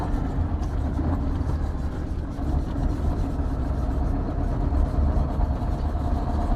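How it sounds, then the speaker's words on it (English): Kamaz truck diesel engine running steadily while driving in fourth gear, a constant low rumble heard from inside the cab with no talking. "The diesel engine of the Kamaz is so powerful."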